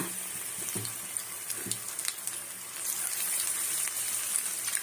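Sweet paniyaram batter sizzles and crackles in oil in a paniyaram pan, a steady hiss with small popping bursts that swells louder toward the end, with no voices.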